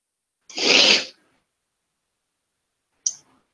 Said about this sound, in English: I think you might have heard part of that sneeze.